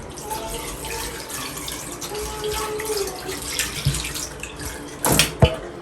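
Hot water being poured while a bathroom shower area is deep cleaned, a steady watery splashing that runs throughout, with a louder burst of splashing and clatter near the end.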